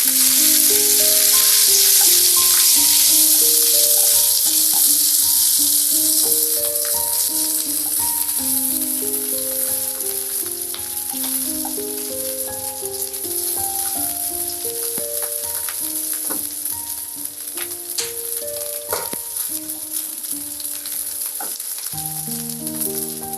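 Green chilies frying in hot oil in a pan, a loud, steady sizzle with crackling pops running throughout, close up, gradually easing slightly in intensity, with no talking.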